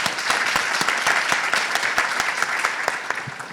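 Audience applause at an environmental justice summit's live podcast taping, a steady wash of many clapping hands with sharp individual claps standing out, loud and sustained throughout with a few voices faintly underneath.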